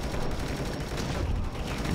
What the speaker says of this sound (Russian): Бумс, там взрывы такие идут.